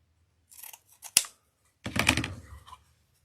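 Scissors snip through grape-patterned ribbon while a vineyard-style welcome wreath is assembled, giving two or three close, crisp cuts with a short swishing slide of the blades and no talking over them.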